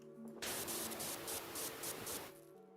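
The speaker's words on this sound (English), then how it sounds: "I'm just spraying the shit out of it" Pressure washer spraying without soap in PowerWash Simulator 2, a steady hissing jet that starts abruptly, holds for about two seconds with slight pulsing, then cuts off, fairly quiet overall with no voices.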